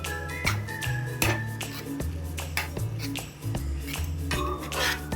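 Yogurt mixed with coriander and cumin powder in a bowl, a spoon clinking and tapping against the bowl in a quick irregular rhythm, close and fairly loud.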